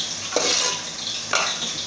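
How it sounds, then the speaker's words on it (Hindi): Chicken with powdered spices stirred and roasted in a pan, a close, continuous sizzle broken by two distinct scraping strokes of a spoon against the pan. "मैं पाउडर मसाले जितने थे हमारे वो डालकर एक बार इसे भी भून लूँगी 1 मिनट के लिए।"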